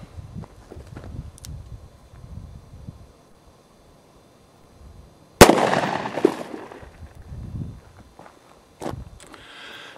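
A 2-inch snubnose revolver fired at 25 yards outdoors: one very loud sharp shot with a long ringing decay, followed later by a second crack, with quieter handling noises and footsteps in between.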